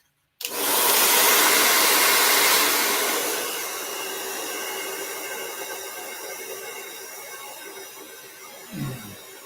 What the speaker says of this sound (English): I'm going to take my blow dryer and dry this in here